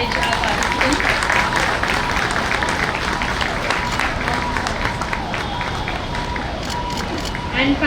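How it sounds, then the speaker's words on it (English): A crowd at a New Delhi Bar Association event claps for prize winners, loud continuous applause with a busy murmur of voices mixed underneath. "Let's keep clapping to encourage our participants."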